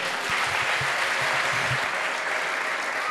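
A church congregation claps in praise after a deliverance prayer, a dense, steady roar of many hands filling the room at close range, with a few low thumps and faint voices underneath.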